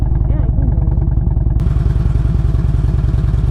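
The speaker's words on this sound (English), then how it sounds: "I hear the exhaust in the headphones." Exhaust of a Harley-Davidson Road King motorcycle while riding, a steady loud low rumble with rhythmic pulsing throughout, with voices talking over it.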